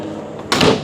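An RV door inside a 2026 Cedar Creek Experience 39RKB trailer, one needing adjustment, gives a single sudden bang or clunk about halfway through, preceded by quiet room tone.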